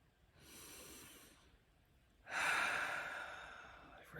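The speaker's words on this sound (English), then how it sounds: "Take a deep breath in." A slow, deep inhale through the nose rises softly, pauses, then a louder, breathier rush of air follows, close and intimate with no speech.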